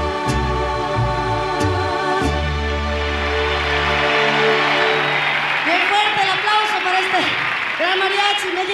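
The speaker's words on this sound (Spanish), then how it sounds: "Bien fuerte el aplauso." An audience applauds at a 1992 concert at the Festival de Viña del Mar. Sustained crowd clapping and noise rise as the music fades, and a voice speaks over the applause.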